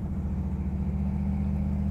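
A 1964 Ford Galaxie lightweight tribute cruises through curves, its engine and exhaust giving a steady, deep rumble heard from inside the car, alone and even in level.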